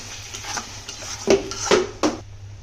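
Spoons of onion-blended spice paste for beef liver roast (kolija bhuna) are stirred in a pan: a few sharp metallic knocks and scrapes of a utensil against the pan, close, with quiet gaps between and no talk.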